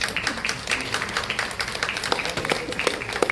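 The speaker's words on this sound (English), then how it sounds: "Let's appreciate their hard work with a huge round of applause." An audience at a state-level mental health and well-being event claps together for health workers, giving a dense, continuous round of applause at moderate distance, with faint speech underneath.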